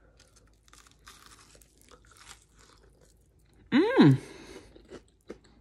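Biting and crunchy chewing of hot fried vegan jackfruit tender bites, close up, with a brief pleased hum from the eater in the middle.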